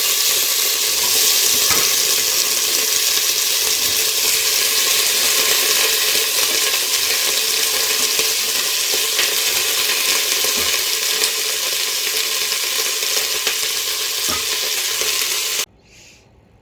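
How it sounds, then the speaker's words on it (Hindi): Green beans fry in oil inside a pressure cooker with a loud, steady, close sizzle and hiss that runs unbroken, then cuts off abruptly at the end. "इसको थोड़ा सा फ्राई करूँगी।"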